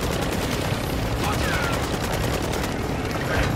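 Rapid gunfire in the battle royale game Warzone 2.0 on Ashika Island, dense overlapping bursts with a steady, busy mix running throughout and voices talking over it.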